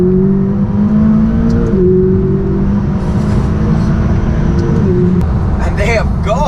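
McLaren sports cars accelerating away on a road in Italy: a loud, steady engine drone with stepped pitch changes as the gears shift, holding close and strong throughout, with voices talking over it near the end.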